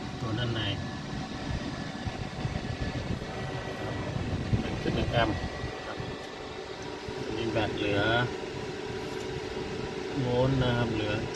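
A Samsung inverter R32 12000 BTU air conditioner runs with a steady low hum and airy whir throughout, while a person speaks intermittently over it.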